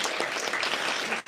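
An audience at a North Karnataka comedy and mimicry show breaks into loud, dense applause, a brief wall of clapping that cuts off abruptly.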